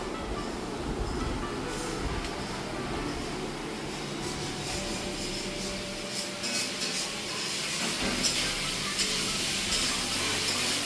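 Food frying in a home kitchen, likely a potato-and-pointed-gourd fish curry, gives a steady close hiss of sizzle across the whole stretch, with faint clinks and stirring scrapes and no talk.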